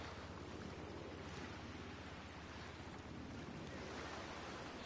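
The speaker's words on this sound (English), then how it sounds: "the sound of waves breaking on the pier" Ocean waves break against a pier in Grand Theft Auto V, a steady, dense wash of surf that never pauses and holds at an even, fairly soft level throughout.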